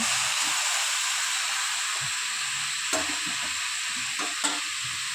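Red amaranth greens fry in a wok, a constant close sizzle with a few faint stirring knocks, no voices.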